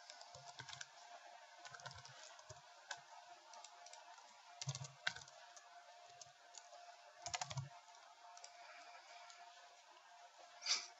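Computer keyboard typing in CAD software, renaming an item: scattered soft key clicks in small irregular clusters, close and quiet over a faint background hiss, with no talking.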